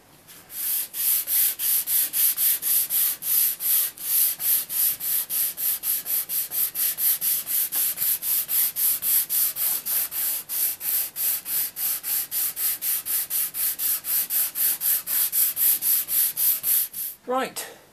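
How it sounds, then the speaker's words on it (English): A wooden guitar body is hand sanded, with steady back-and-forth rasping strokes in an even rhythm, loud and close, for the whole stretch before stopping near the end. No one speaks. "The entire guitar has been sanded up to 240 grit actually"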